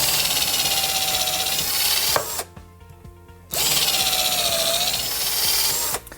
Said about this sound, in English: So what we are going to do is drill a pilot hole in them first.